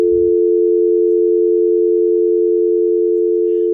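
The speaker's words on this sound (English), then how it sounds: "Without a warning, the phone cut off" A telephone dial tone from the video game Higurashi drones after a call is cut off, a loud, unbroken steady tone with a faint low thump at the very start.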